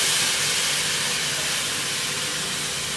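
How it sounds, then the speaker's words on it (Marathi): Water poured into frying masala in a pan sets off a loud, continuous broadband hiss and sizzle that stays steady for the whole moment, close up with no voices. "त्यात पाणी टाकून घ्यायचंय"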